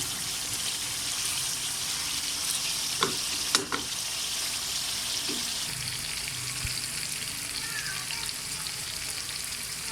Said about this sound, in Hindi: मैं इसकी भुनाई कर लूँ अच्छी तरह।